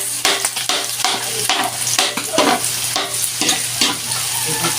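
Garlic and onion sizzle in a frying pan as they are stirred around, a steady crackling fry with repeated scraping strokes through the clip and no talking.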